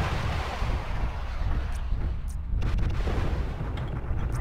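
Missile salvos fire in the mech combat game MechWarrior Living Legends, a continuous loud rumbling roar of launches and blasts with repeated sharp bursts toward the end.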